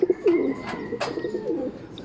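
Pigeons coo in a loft, several soft throaty coos close by with faint rustling and a few brief clicks.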